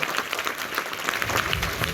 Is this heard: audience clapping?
yes